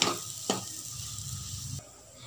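Chana dal roasting in a pan, a steady close sizzle with a couple of sharp spatula scrapes before it quiets down.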